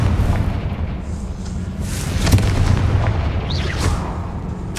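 A Confringo fire-spell blast in Hogwarts Legacy set inside a tomb, a loud rumbling explosive burst with crackling magical whooshes over a dense low roar, close and continuous, no speech.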